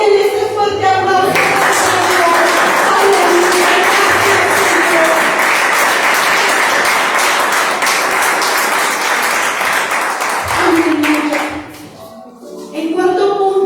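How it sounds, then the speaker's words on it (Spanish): A church congregation breaks into strong applause after a sermon point, a loud, sustained roar of clapping lasting about ten seconds that fades out, with a preacher's voice heard just before and after. "Denle ese fuerte aplauso."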